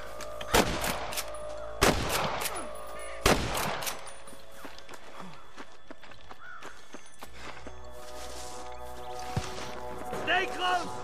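Gunfire in the Western video game Red Dead Redemption: three loud, sharp shots spaced over a couple of seconds, followed by quieter game ambience and clatter with spoken dialogue.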